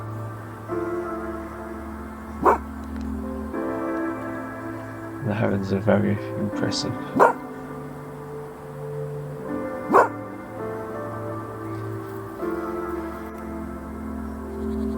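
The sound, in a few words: dog barking at nature reserve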